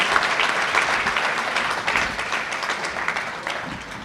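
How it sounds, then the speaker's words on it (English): A crowd at a football hall of fame induction ceremony applauds high school team members, a full, even roar of clapping from many hands that holds steady and eases slightly near the end. "And a round of applause for all of those team members,"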